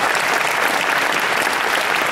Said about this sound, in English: Give a big round of applause to George from Kensington.